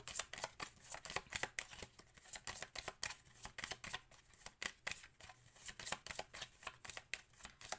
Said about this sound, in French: Je vais encore prendre une carte